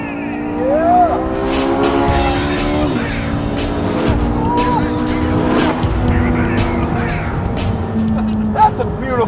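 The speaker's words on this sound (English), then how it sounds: "You get the emotion of that exhaust note with the efficiency of having electric power." A Porsche 918 Spyder hybrid supercar drives with its engine and exhaust roaring, the pitch rising and falling through gear changes, while people talk over it from inside the car.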